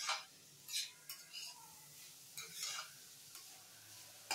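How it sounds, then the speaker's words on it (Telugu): Cabbage frying in a pan with a soft sizzle, broken by several brief scraping stirs and clinks of a spatula against the metal at irregular intervals. "క్యాబేజీ బాగా వేగింది కదా, ఇంకొంచెం వేగనిద్దాము"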